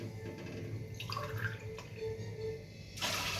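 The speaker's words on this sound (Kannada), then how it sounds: "ಅದ್ರ ಸಂಬಂಧ 2 ಗ್ಲಾಸ್ ನೀರು ಹಾಕ್ತೇನೆ ನೋಡ್ರಿ" Water is poured into a cooking pot for chicken biryani, a continuous close splashing and trickling that swells into a louder, brighter gush near the end.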